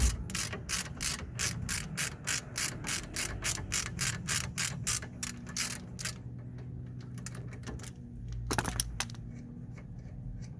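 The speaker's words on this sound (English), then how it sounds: "a 13mm socket to undo the bolt" A ratchet with a 13mm socket undoes a brake caliper bolt on a Nissan Micra K13: a rapid, regular run of crisp, close clicks for about six seconds, then a pause and a few scattered clicks and clunks.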